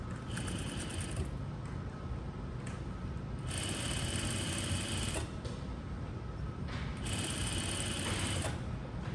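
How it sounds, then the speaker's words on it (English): A sewing machine stitches a boning channel half an inch in, reversing at the start. A steady mechanical whir runs throughout, with brighter surges where the stitching speeds up or reverses. It is close and continuous. "So here I'm gonna stitch at the 1/2 inch. And I'm gonna reverse at the beginning."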